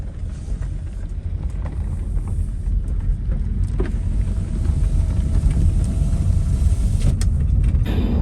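A car rolls along a pothole-strewn village road, heard from inside as a steady low rumble with wind buffeting and a few faint knocks from the uneven surface throughout.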